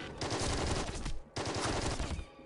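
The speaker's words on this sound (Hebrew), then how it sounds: "תוך כמה יריות אני יכול להרוג אותו." Rapid bursts of gunfire in the video game Rising Eagle, two dense sustained volleys of loud automatic shots separated by a brief pause, with no talk.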